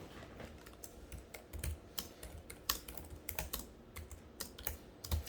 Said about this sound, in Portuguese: Vou até digitar aqui